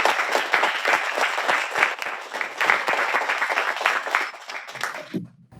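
Audience applause at an artists' fair-finance vision ceremony, loud rapid clapping that carries on steadily before cutting off abruptly near the end.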